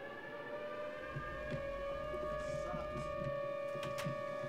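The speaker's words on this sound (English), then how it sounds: "Let's turn on the siren." Tornado warning siren in a tornado survival video game, a steady droning wail with stacked sustained tones, loud and continuous over low background rumble.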